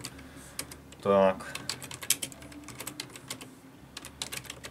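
Fingers tap steadily on a computer keyboard while entering a name for an online order. The clicks are close and moderately quiet, with one short spoken word breaking in near the start.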